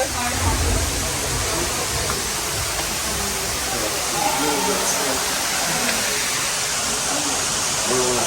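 A waterfall roars with a constant, dense wash of flowing water up close, with people's voices talking beneath it.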